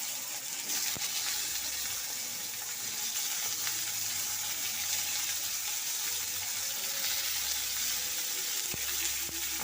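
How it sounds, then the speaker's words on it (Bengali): Raw mango pieces fry in hot mustard oil with dried red chilli and panch phoron, a dense, steady sizzle close by with an occasional faint clack of a utensil. "আমের টুকরো দেওয়ার পর হালকা করে ভেজে নেব"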